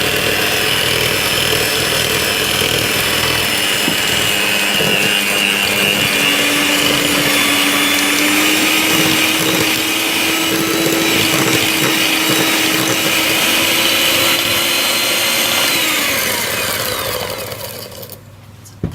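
An electric mixer whips chocolate chunk cookie dough, a steady, loud, close motor whine that runs unbroken for about seventeen seconds before winding down and stopping. No one speaks over it.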